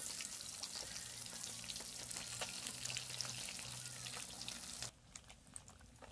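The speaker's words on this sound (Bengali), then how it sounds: "মাছটা ভাজা কমপ্লিট হয়ে গিয়েছে।" Small parshe fish frying in oil in a home kitchen, a dense, steady sizzle that holds for about five seconds before dropping abruptly to a quieter, sparser crackle.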